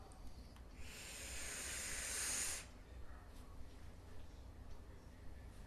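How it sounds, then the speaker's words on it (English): Vapor is drawn through a Mason quad post RDA atomizer with the airflow partly open, a close airy hiss of about two seconds that stops abruptly and leaves a quiet room. "That's where I like to vape this thing."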